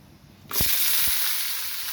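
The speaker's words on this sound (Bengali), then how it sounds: "পেঁয়াজ কাঁচামরিচ দিয়ে দিলাম এগুলো ভেজে নিচ্ছি খুব ভালো করে" Onions and green chilies hit hot oil in a pan and burst into a loud, steady sizzle after a brief quiet moment, with a couple of soft thuds as they drop in, close and with no talking.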